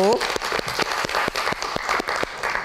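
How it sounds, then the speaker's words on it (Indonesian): A studio audience on a live Indonesian talk show claps for a reporter, a steady run of rhythmic hand claps, close and moderately loud, with voices faint underneath. "Kita berikan tepuk tangan untuk Sabago"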